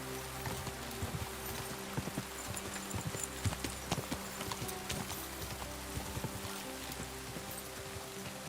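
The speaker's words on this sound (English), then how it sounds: "Oh wow, even the canter is really fast." Horse hooves canter quickly in Kingdom Come: Deliverance II, a steady fast clip-clop rhythm running throughout over a continuous game ambience bed.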